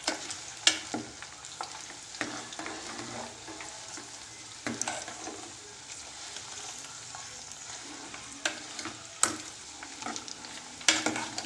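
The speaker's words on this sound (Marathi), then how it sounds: "थोडा वेळ असं हलवत राहायचं आणि त्याला उकळू द्यायचं तेलाला" Ayurvedic hair oil heats in a pan while it is stirred. A soft, steady frying hiss carries scattered scrapes and knocks of the spoon against the pan, close up, with no talking.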